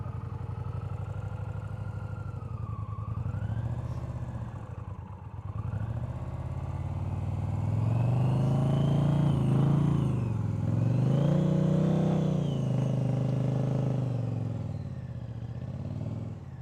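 A motorcycle creeping slowly through a cone practice course, its low engine rumble rising and falling with small throttle blips and slight jerky surges, steady and moderately close.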